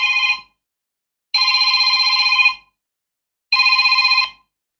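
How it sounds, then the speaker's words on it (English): A smartphone rings after an Alexa Mastermind skill triggers it remotely: three bright electronic ring bursts, each about a second long, separated by clear silent gaps, close and loud. "Ringing your phone for 25 seconds."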